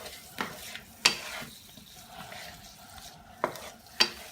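Tomatoes and olives tossed in a pan of hot garlic and olive oil, a soft continuous sizzle punctuated by a few sharp clanks of the pan and utensil.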